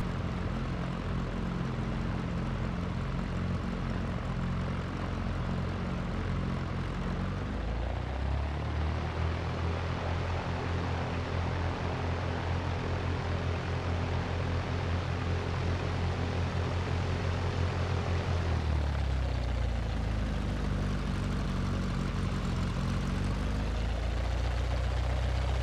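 A propeller airplane in the X-Plane 11 flight simulator throttles up and takes off, its engine drone loud and continuous, rising in pitch and shifting tone as power changes, with no talking.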